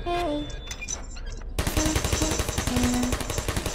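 Turret firing in the video game Portal: after a second of quieter tones, a loud, continuous rattle of rapid shots erupts and keeps going steadily to the end.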